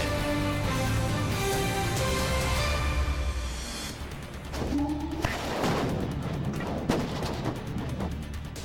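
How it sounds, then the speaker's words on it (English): Repeated deep booms and blasts from a series of explosions following a tanker truck explosion rumble over a continuous roar, some sharp cracks mixed in, distant but loud, with faint voices underneath. "Unbelievable video of a series of blasts that followed a tanker truck explosion."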